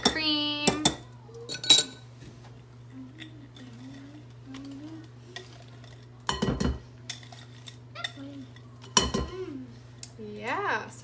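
Utensils clinking and scraping against a bowl while a dessert is mixed and whipped cream folded in, intermittent sharp knocks with quiet stirring between, and people talking throughout.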